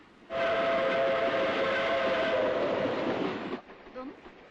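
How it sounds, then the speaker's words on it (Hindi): A train bound for Bombay in a 1972 Hindi film scene gives one long, loud whistle lasting about three seconds, then cuts off to near quiet. "ये रेल तो बम्बई जा रही है।"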